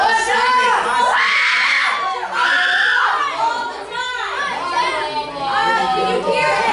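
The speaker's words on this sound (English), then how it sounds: "You guys are screaming constantly." A group of children at a youth group scream and shout together in a loud, continuous, overlapping din of high-pitched voices, with brief dips between bursts.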